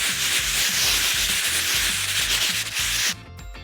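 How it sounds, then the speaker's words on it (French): Light sanding by hand of a dried multi-surface renovation coating, a steady rhythmic rasping scrape with regular back-and-forth strokes, close and loud, stopping abruptly near the end. "on peut faire un léger égrenage pour atténuer les défauts"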